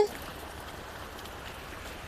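Continuous hiss of steady rain falling on surfaces nearby, an even wash of sound with no voices.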